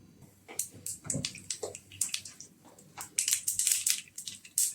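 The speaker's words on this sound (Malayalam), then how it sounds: "കടുക് പൊട്ടി വന്നിട്ടുണ്ട്" A teaspoon of mustard seeds pops in two tablespoons of hot coconut oil in a pan, giving irregular sharp crackles and spits that thicken into a busier burst of popping toward the end.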